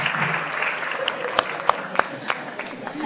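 Steady audience applause fills a university lecture hall at a film event, a dense continuous patter with a few louder individual claps standing out, and no speech over it.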